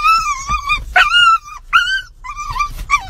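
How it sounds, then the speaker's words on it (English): A dog whimpers and yips excitedly in a run of high, loud, close whines and short yelps with brief pauses between them, and no talking. "Dog every time he sees my boyfriend."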